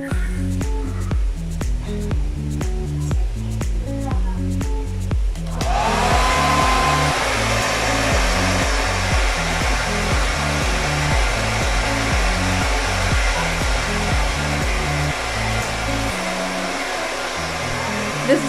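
An Infinix foldable hair dryer with diffuser attachment switches on partway through and blows with a loud, steady whoosh that holds without a break, after a stretch of rhythmic background music.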